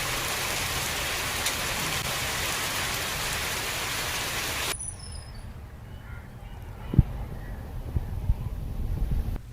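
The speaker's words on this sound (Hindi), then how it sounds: "गरज चमक के साथ बारिश भी हो रही है।" Heavy rain from a thunderstorm pours down in a steady, dense hiss for about five seconds, then gives way abruptly to a much quieter scene with a few faint knocks.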